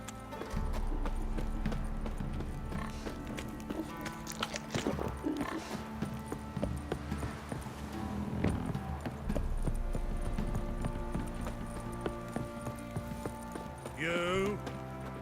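Horse hooves clip-clop through a Witcher 3 game scene, steady rhythmic hoofbeats under voices and ambient game music, with a brief whinny-like call near the end.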